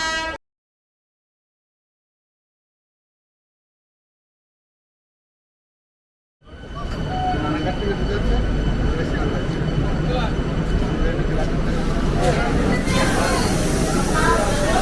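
AC local electric train pulling into Bongaon station, a rising rumble and rail noise that swells after a stretch of silence and holds steady, with voices in the background.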